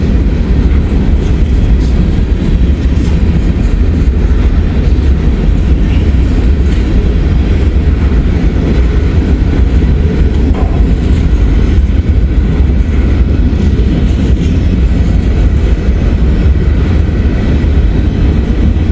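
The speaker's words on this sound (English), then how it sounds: "That's the locomotive over there" Freight train of grain and trash cars pulled by a locomotive passing close by in the rain, a loud continuous rumbling roar of rolling wheels that holds steady throughout.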